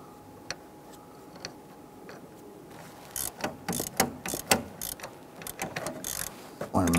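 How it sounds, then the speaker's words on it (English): A socket wrench with an extension tightens a bolt on a 2008-2013 Nissan Rogue AC compressor, first a few sparse clicks, then a fast, close run of ratcheting clicks and knocks. "Let's go ahead and get our extension and socket on there."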